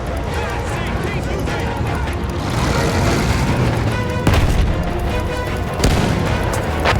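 Artillery shells exploding in the World War I video game Battlefield 1, heavy booms and crashes over a dense, continuous battlefield roar, with two sharper blasts standing out and a voice talking throughout.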